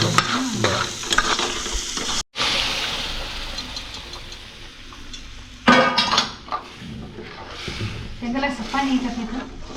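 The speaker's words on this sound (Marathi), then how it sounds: "झाली आपली पालकाची भाजी तयार होत आहे" Spinach sizzles and crackles in a hot pan while a utensil stirs and scrapes, with a sudden short gap and clattering bursts later on.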